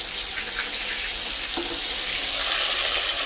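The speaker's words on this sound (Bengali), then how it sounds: "এগুলো মাছগুলো তাও ভাজা হচ্ছে।" Fish frying in a pan of oil spiced with coriander and cumin powder, a steady close hiss of sizzling with a brief faint clink partway through.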